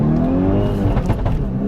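Loud, close engine note from a Volkswagen Scirocco, rising steadily in pitch as it revs, with a dense, buzzy tone and a brief rougher patch partway through.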